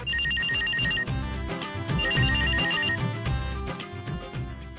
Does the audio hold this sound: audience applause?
no